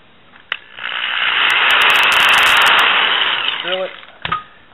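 A small drill bit spins through a plastic skid for an E-flite CX3 helicopter, a steady high whir swelling for about three seconds between short clicks at the start and end.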